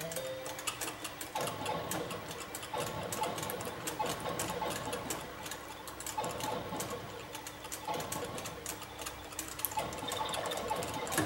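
Time Pilot arcade game running as a pirate emulated version, with dense buzzy electronic engine drone, rapid ticking shots and repeating sweeping tones, loud and continuous with no talking.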